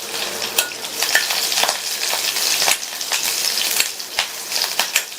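Chopped green and dried chillies go into hot oil with popped mustard seeds, giving a loud, close, continuous sizzle crackling with frequent sharp pops and spatters, with no one speaking.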